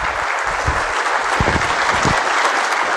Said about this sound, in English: So please join me in giving a warm round of applause to Mr.